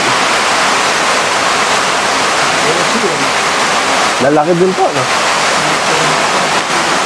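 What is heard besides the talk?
water draining out of a catfish breeding tank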